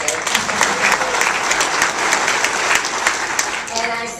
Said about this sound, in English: let's give another round of applause for Dewey Bartlett